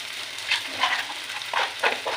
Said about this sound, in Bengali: এই যে জিরে ভাজা